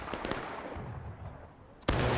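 Gunfire in the Civil War-era game War of Rights, with several quick distant musket cracks early on, then a sharp close shot near the end over faint background noise.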